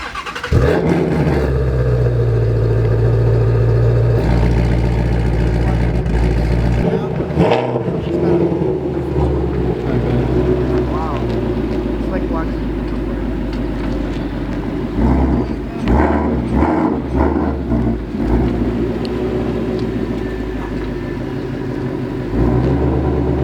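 Ford Mustang Shelby GT350R, a 2019 model, revving its engine with a deep, loud exhaust roar that rises and settles in several bursts, heard close by with occasional voices in the background.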